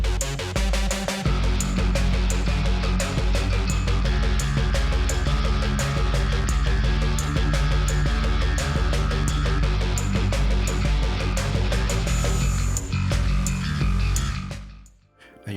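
An electronic track with heavy distorted guitars and a gritty electric bass plays dense and loud with a steady driving beat, then thins out and fades near the end.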